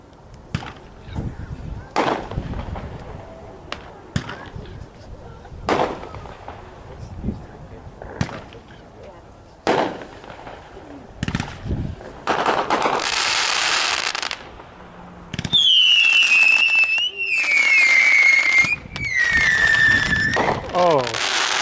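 FMJ Blast fireworks at a big demo night in Kansas, a string of sharp bangs and crackling bursts followed by several loud whistling shells, with scattered voices between the blasts.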